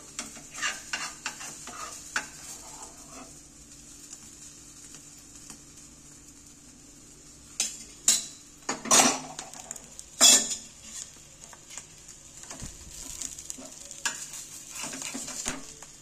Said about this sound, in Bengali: 2 পেটি ভালোভাবে ভাজা হয়ে যাবে, এই জন্য উল্টিয়ে দিই।